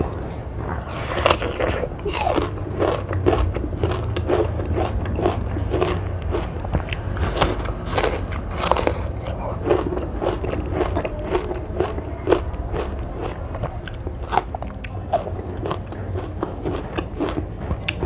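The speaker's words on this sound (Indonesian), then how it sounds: "Ini kulit semangkanya enak banget guys, kriuknya itu enak." Raw watermelon rind bitten and chewed up close, giving repeated sharp, crisp crunches in an irregular rhythm, with some soft movement sounds in between.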